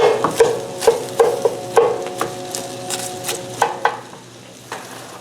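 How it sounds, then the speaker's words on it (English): A big full pan of shredded cabbage being stirred and tossed with a utensil while making smoked pastrami, a series of rhythmic scraping, rustling thumps at a close distance, gradually thinning out toward the end. "I've got a big full pan of cabbage here that I'll try to get mixed in."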